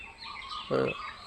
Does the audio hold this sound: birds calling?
yes